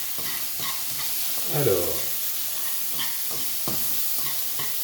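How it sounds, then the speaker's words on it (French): Bacon lardons sizzling and browning in a pan for pasta carbonara, a steady close frying hiss with stirring scrapes and a brief louder burst, with a short spoken word over it. "le lard commence à bien griller là"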